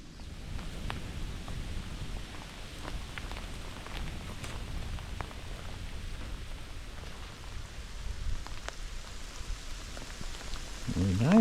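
Hailstones fall steadily outdoors among bluebells, a dense, continuous patter of small ticks and taps spread across the whole clip at moderate, even loudness.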